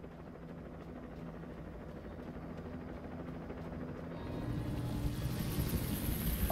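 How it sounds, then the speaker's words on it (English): A steady rotor thrum of a helicopter in the video game Alan Wake, low and constant, growing louder toward the end as it approaches. "Hello, Mr. Helicopter."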